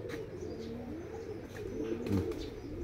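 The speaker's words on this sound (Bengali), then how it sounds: "এই যেগুলা তো কবুতর" Pigeons coo softly in a village yard, a low murmuring rumble with a few faint chirps and a brief wing flutter near the end.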